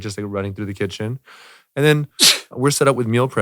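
A single sneeze bursts out between stretches of someone talking about meal prep, brief and close, with speech resuming right after.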